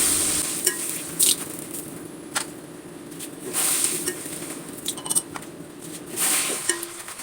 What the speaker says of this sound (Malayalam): ഞാനൊരു പപ്പടം കൂടി കാച്ചിട്ടുണ്ട് വെളിച്ചെണ്ണ ചൂടായിട്ടുണ്ട്